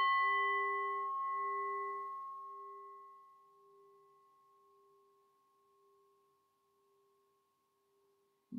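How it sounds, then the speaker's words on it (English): A meditation bell rings once, a clear bright tone that fades slowly over several seconds into near silence, followed by a faint soft knock at the very end. "Aware of the sound of the bell and any other sounds in your space."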